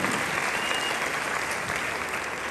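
A church congregation at a wedding service claps loudly and continuously, a dense unbroken wash of many hands that holds steady throughout.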